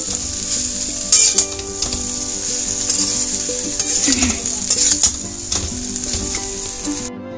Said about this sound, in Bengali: আমি কিন্তু এই যে নাড়াচাড়া করছি এটা কিন্তু আমি একদমই লো ফ্লেমে নাড়াচাড়া করছি